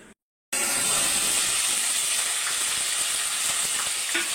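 Whole onion and spices fry in hot oil, a brief silence and then a loud, dense sizzle that hisses steadily up close with faint stirring clicks and no talk.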